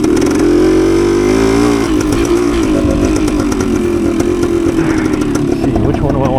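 A 1972 Suzuki TS185 motorcycle on its first ride, the engine revving loud and close in a steady buzzing drone that rises and falls slightly under the rider's voice.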